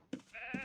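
Two short, close sheep bleats in quick succession, clear and alone, from sheep in a pen in the video game Ultima Online.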